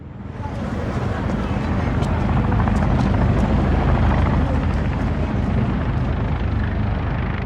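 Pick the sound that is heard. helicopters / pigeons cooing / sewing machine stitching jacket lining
helicopters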